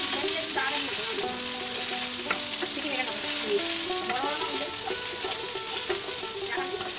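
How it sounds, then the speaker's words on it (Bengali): Potato, raw banana and papaya frying in a pan, with a steady close sizzle and scraping stirring clatter throughout; no talk. "আলুগুলো হালকা ভেজে তারপর এর মধ্যে আমি দিয়ে দিলাম কাঁচকলা আর পেঁপে।"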